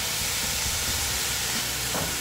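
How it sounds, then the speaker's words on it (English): Mushrooms cooking down in a pan for a vegan chicken fettuccine Alfredo give off a steady, close sizzle with a constant hiss that never lets up, and no one speaks. "my mushrooms are cooking down very nicely"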